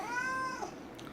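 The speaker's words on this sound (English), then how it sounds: "I hear you meowing." A house cat gives a single close, clear meow that rises and then falls, lasting under a second, followed by quiet.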